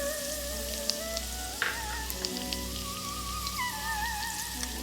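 Chopped garlic sizzling in hot oil in a kadai, a continuous crackling fry with scattered pops and some faint tonal hum behind it, close and steady with no talk.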